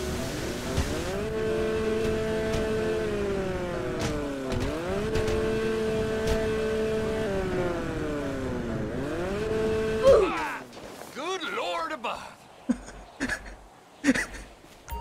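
Nissan Skyline R34 engine in GTA 5 revving up through repeated gear shifts, each rising pitch sweep cut by a shift, then tires squeal and rougher engine bursts toward the end.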